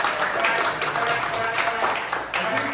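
Audience applause at a live show, a dense patter of many hands clapping with voices mixed in under it, fairly loud and continuous.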